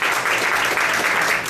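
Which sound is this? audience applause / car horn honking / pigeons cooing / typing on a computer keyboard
audience applause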